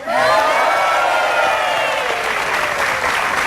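Loud, sustained applause with some cheering from a studio audience at an Indonesian television variety show Christmas episode, thick and continuous throughout with tonal music or voices over it.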